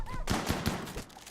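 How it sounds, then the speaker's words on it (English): Burst of gunfire in the Rimworld video game during an attack by a warg, several rapid repeated shots at steady moderate volume over a low game background. "Gunfire? Oh, they're under attack."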